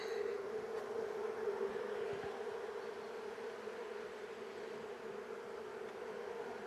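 Honey bees buzz around an open hive during a beekeeping check: a steady, droning hum of many insects, fairly close and even in level, with no talking heard over it.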